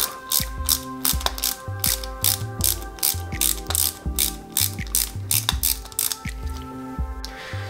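A small screwdriver ratchets screws into a Thanos glove toy during assembly, giving a rapid, close clicking that runs in uneven bursts, with no talk.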